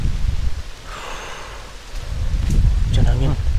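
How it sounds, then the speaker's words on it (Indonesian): Heavy rain and wind at a campsite, a steady dense hiss with gusty low rumbles, and brief voices breaking through near the end. "Hujan angin."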